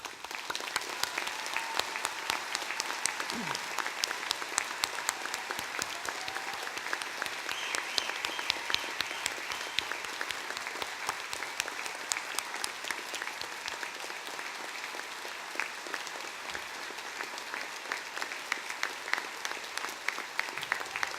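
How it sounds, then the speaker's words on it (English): Audience applause for the graduates at a Torquay degree ceremony, a dense, sustained wash of many hands clapping that holds steady throughout, heard from within a large hall. "join me in giving them a huge round of applause"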